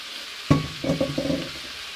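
Potatoes are tossed into a hot pan and start frying. A sudden thud is followed by sizzling and a few clattering bumps, close by, with no talking.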